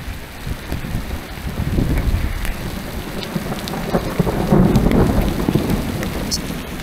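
Heavy rain patters steadily through a thunderstorm during an outdoor run, with low rumbling underneath that swells toward the end. The sound is dense and continuous, and no one speaks.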